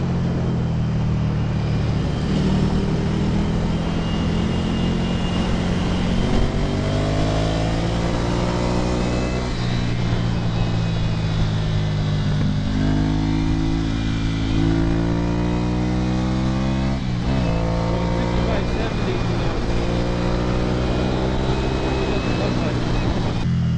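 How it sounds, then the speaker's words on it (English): 2015 Ducati Scrambler motorcycle with a Termignoni exhaust, engine revving up and down in repeated rising and falling sweeps with a throaty drone, continuous and loud; the popping on deceleration is not clearly distinguishable. "It seemed like it was running lean because it was a lot of popping on deceleration."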